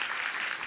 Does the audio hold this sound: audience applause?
yes